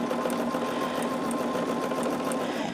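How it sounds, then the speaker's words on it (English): A sewing machine runs steadily while stitching a quarter-inch seam on a charm tote, with a continuous motor whir and a fast, even needle rhythm, close and alone with no talk. "So we will do a second 1/4 of an inch stitch"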